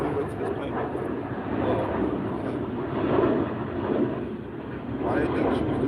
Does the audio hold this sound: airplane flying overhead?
yes